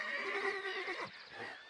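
A gaucho's horse on open Argentine countryside whinnies in a long, wavering, high-pitched neigh that trails off into softer snorting, heard fairly close and clear with no talking over it.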